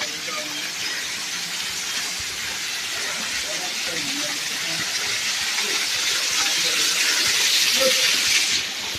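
Steady broadband rush of a forest waterfall at a picnic spot, continuous hissing flow that swells slightly near the end, close and unbroken with no voices.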